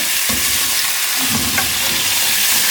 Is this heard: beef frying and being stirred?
yes